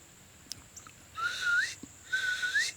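Someone whistles two rising, bird-like notes, each held about half a second, imitating a whistle call, with faint clicks and quiet background between.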